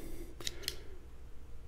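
Nextorch Pioneer 14-in-1 multi-tool scissors slice through several layers of wadded shirt fabric in two quick, crisp snips, close and fairly quiet over a steady low background hum.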